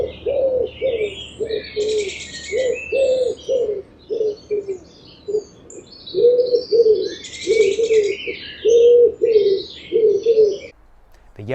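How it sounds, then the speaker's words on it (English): A wood pigeon sings its soft, rhythmic cooing phrases, repeated steadily in clear groups of notes, fairly near and alone, with faint background birdsong above it. "a wood pigeon says, I really don't know, I really don't know."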